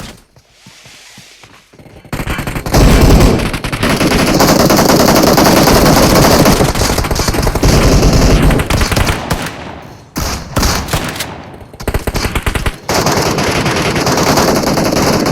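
Loud, rapid automatic gunfire in the mobile battle game PUBG Mobile, a quiet start giving way to sustained bursts with brief gaps and a final sustained run, close and harsh with no talk.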